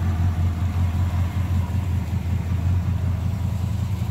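A 1966 Chevy pickup truck engine runs at a steady, close, loud idle with an even low rumble and no voices.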